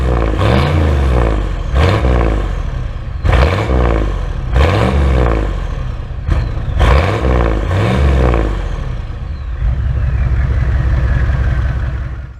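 A Nissan Patrol 6.5L turbo diesel V8 revs hard several times in a row, each loud rising blip dropping back to a rough idle, then settles into a steady deep rumble near the end.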